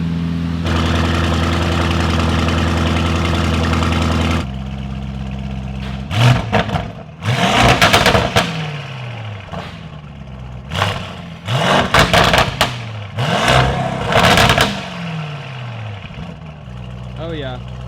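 A Lamborghini Urus V8, tuned to 800 hp with a downpipe and a stage 2+ transmission tune, holds a loud, steady idle drone, then is blipped through a series of sharp, roaring revs that drop back between bursts.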